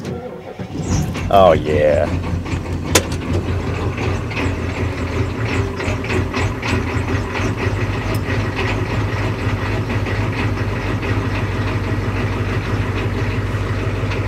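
A Ford 6.9 IDI turbo diesel, cold after about two months of sitting, cranks briefly after glow plug heating, catches, and settles into a loud, rough, clattering idle while someone speaks briefly near the start.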